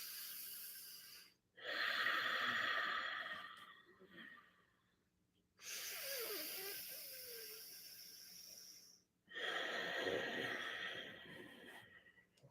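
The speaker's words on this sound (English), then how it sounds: "we narrow the flow of breath in the throat, producing a gentle breathing sound" Ujjayi breathing, with the breath narrowed in the throat, comes as three long, soft hissing breaths close to the ear, each separated by a short quiet pause, gentle and rhythmic with no talking.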